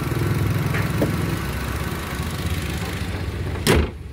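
A Wuling Confero engine idles with a steady low hum, joined by a couple of faint clicks and a sharp knock or door-like thud near the end.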